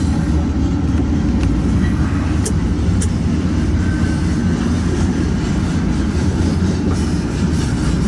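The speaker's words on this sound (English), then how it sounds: "Out here we call these mega trains." A long freight mega train with a mid-train distributed power unit rolls steadily past, a continuous loud rumble and rail roar with faint squeals and clanks throughout.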